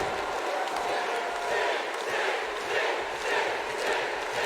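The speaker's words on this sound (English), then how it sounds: "crowd solidly behind Sting here." A wrestling video game crowd (WWE 2K18, WCW-style match) roars steadily throughout, a dense continuous wall of cheering and shouting with no breaks.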